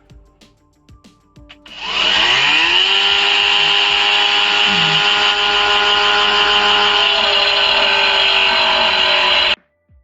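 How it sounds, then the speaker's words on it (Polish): An angle grinder spins up and cuts continuously for several seconds with a loud, high-pitched whine, then stops abruptly. "Łapiemy za szlifierkę kątową"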